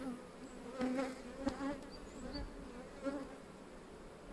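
Bees buzz at an open hive, a faint, wavering drone of several insects passing close with small swells and a few soft knocks, fairly quiet throughout.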